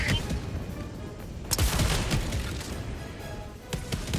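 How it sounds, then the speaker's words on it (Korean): Autocannon sentry firing in Helldivers 2, heavy booming shots that come in irregular bursts, with one strong blast near the middle and more reports toward the end. "앞에 있는 오토캐논 센트리인데"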